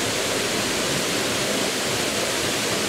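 A waterfall in the Arkansas Ozark National Forest: a dense, steady roar of falling water with broad hiss, constant and close, with no voices.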